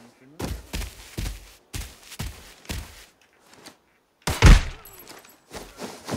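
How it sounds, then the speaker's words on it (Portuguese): A single sharp gunshot goes off in the mobile shooter game Arena Breakout, a lone loud crack partway through, with people talking in short bursts before and after it. "Parece que teve um outro tiro lá perto da entrada do hotel"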